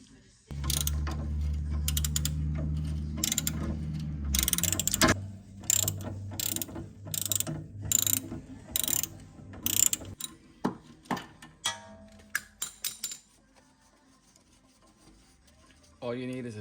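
Socket ratchet working a rusty suspension bolt on a Hyundai Sonata NF: a long run of rapid clicking, then bursts of ratcheting in rhythmic strokes that trail off into sparse clicks, close and loud.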